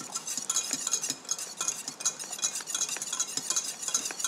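A whisk scrapes around the bottom of a saucepan in a figure-eight motion, beating eggs with quick, rhythmic metallic clicks and swishes, fairly quiet and steady, with no talking.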